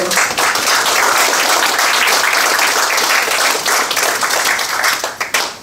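A sustained round of audience applause at the opening of a utilities conference, dense and loud from start to finish, with a few separate claps as it thins out at the very end.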